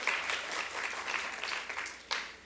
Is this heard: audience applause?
yes